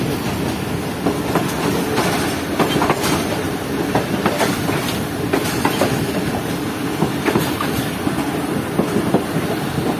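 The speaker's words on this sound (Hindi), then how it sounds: "तो ट्रेन एंटर हो रही है शाहजहाबाद जंक्शन रेलवे स्टेशन पर" Train rolling into Shahjahanabad Junction railway station in India aboard the Shah Hussain Express, with a steady rhythmic clickety-clack of wheels over rail joints and a continuous loud rumble, no talking.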